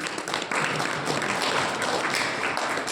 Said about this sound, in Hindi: ताली बजाओ उत्तर से।